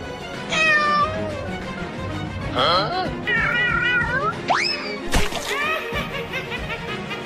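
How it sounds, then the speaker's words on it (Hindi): A cartoon cat in a Hindi kids' comedy cartoon lets out several loud, rising meows in quick succession over busy background sound, with a splashy burst near the end. "अरे अब ये इतनी बड़ी बिल्ली कहाँ से आ गई?"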